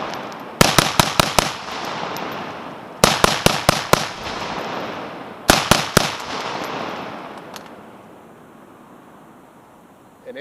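A BRS47 AR-15 rifle chambered in 7.62x39 with a cheap muzzle device fires outdoors. Three loud rapid strings of about five or six sharp shots each are separated by pauses, and the reports ring out and decay.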